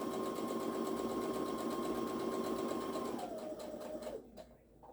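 A sewing machine set to a small stitch runs steadily at close range, then slows and stops near the end, with a faint whirring motor and rapid needle ticking.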